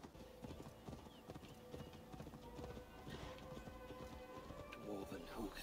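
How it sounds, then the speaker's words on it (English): A horse galloping in the Assassin's Creed Valhalla Dawn of Ragnarök expansion, with rapid rhythmic hoof clip-clops running steadily throughout, mixed with game ambience and a faint snort. "Get on the horse."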